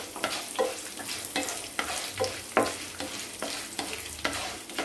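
Garlic cloves fry and roast in a pan for a South Indian chutney, a close, lively sizzle broken by repeated scraping stirs of a spoon.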